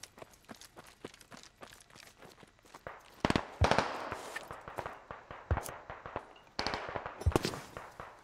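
Gunfire crackles in the military shooter Squad on the Sumari Bala map, rapid distant bursts and scattered single shots, with louder, nearer volleys breaking in mid-way and again toward the end.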